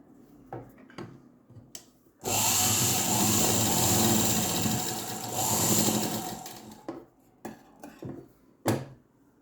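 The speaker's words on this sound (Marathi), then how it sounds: "इथे एका बाजूला टीप मारून घ्यायची अशी अगदी बारीक टीप मारायची" An electric sewing machine runs a fine stitch along the edge of a festival flag cloth, a loud, steady whirring burst of about four seconds between softer handling clicks, close by with no talking.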